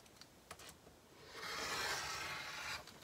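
Zipper pocket lining fabric for a tote bag trimmed along its straight top edge: a few light taps, then a soft, steady rasping cut lasting over a second, quiet and close with no voices.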